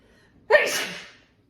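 A single close, sharp human sneeze bursts out of a quiet room and trails off in about three-quarters of a second.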